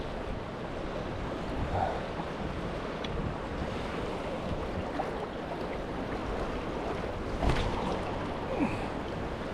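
Wind gusting at a waterside campsite, a steady broadband rush with surf-like swells and occasional buffeting on the microphone, one stronger gust near the end, no voices.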